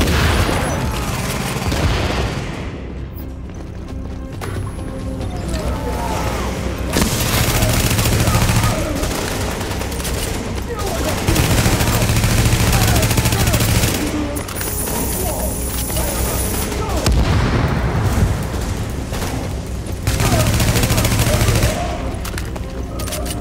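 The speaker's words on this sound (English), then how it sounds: "That shooting, that was you, right?" Sustained gunfire from the video game The Division in a Lower Manhattan subway mission: bursts of automatic fire and booms come in waves, loud and dense throughout, with a game score beneath.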